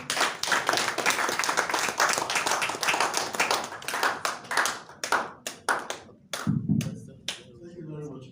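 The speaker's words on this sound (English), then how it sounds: "Let's clap for them once more" An audience claps after a presentation at a live broadcast event in Lagos, dense applause thinning into scattered individual claps, with a voice speaking briefly near the end.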